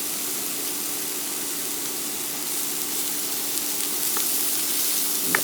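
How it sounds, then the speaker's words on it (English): Butter sizzling in a dry skillet, a steady, fairly loud broadband hiss that holds evenly throughout, with a couple of faint ticks near the end and no talking. "I'm going to add 2 tablespoons of butter."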